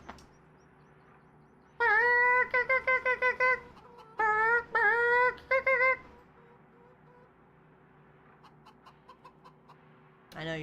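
A person imitates a chicken with a run of loud, squawking clucks in two bursts, then a short final cluck after a quieter pause, recorded during a farm livestream.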